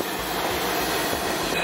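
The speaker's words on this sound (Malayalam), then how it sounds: "അപ്പുറത്ത് ഒരു പാസഞ്ചർ പോകുന്നു" Bangala Lakshadweep Express passing on the adjacent track, heard from a second-class AC coach: a continuous close rushing roar of wheels and carriages with a faint squeal, steady throughout with no talk.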